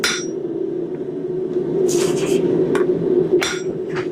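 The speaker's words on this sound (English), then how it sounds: "our goal is nice even hits because we want to evenly move that material" Several separate hammer blows ring on hot steel, one at a time at an uneven pace, while a bottle opener is forged. The ringing strikes sit over a steady forge roar close by.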